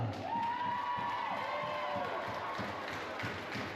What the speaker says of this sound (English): So ladies and gentlemen, cheer loudly.